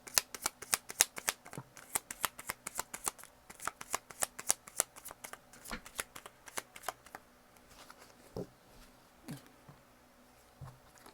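Divine Love Oracle cards are shuffled by hand in quick, crisp riffling flicks, dense and close at first, then slowing into scattered slaps and taps.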